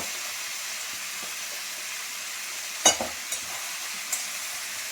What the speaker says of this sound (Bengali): তেলাপিয়ার মাছটা একটু কষা কষা করি।